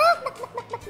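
A chicken gives a few short, repeated clucks at a moderate distance, with background sound present.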